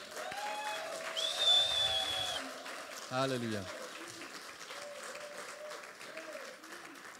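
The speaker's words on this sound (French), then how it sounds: "Est-ce qu'on peut faire encore une acclamation pour Jésus?" A church congregation applauding and cheering in praise of Jesus during a sermon, with the sound spread across the room, while a voice calls out over it and the clapping gradually dies down.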